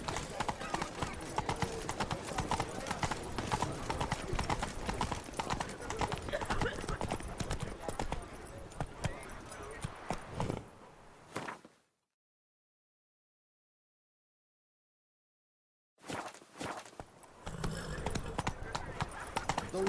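Horse hooves clip-clop steadily while riding in The Witcher 3: Blood and Wine, with a whinny and dense game sounds around, then a few seconds of total silence before the hoofbeats resume.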